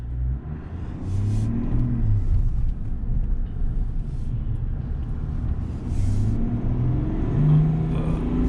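A 2020 Chevrolet Silverado 1500 with the 3.0L Duramax turbo-diesel pulls smoothly from a rolling 10 mph up toward 50, a steady low engine rumble rising gently under cabin road noise, with no talking.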